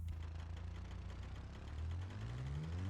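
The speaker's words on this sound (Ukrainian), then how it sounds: "Мотор підстукувати почав." A car engine in BeamNG.drive rumbles at low idle with a faint rhythmic knocking from failing connecting rod bearings, its pitch slowly rising toward the end.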